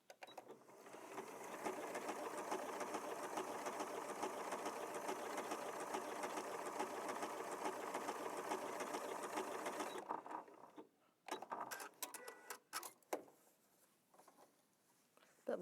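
A Janome Memory Craft 6700P sewing machine stitches fabric in one steady, continuous whirring run for about ten seconds, then stops, followed by scattered small clicks and handling noises.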